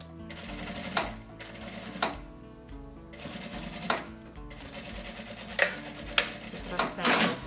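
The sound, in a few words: sewing machine stitching bias binding onto vinyl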